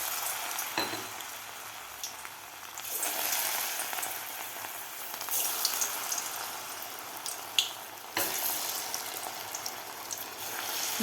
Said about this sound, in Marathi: लगेचच आपल्याला पकोडे तळायला घ्यायचे आहेत.